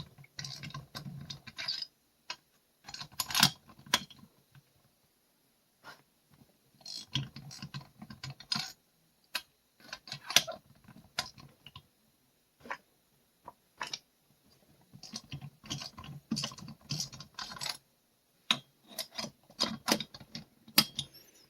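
A torque wrench breaks loose cylinder bolts on a large saw engine in a crisscross pattern, giving quiet bursts of rapid ratcheting clicks separated by short pauses, with no talking.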